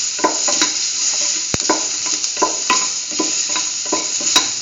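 A spoon stirs a pinch of mixed spices into tomato and bell pepper instant noodles in a pan, giving regular scraping taps over a constant hiss, close and moderately loud, with no talking.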